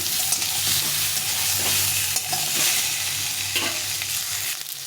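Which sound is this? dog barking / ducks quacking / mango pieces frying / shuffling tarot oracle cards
mango pieces frying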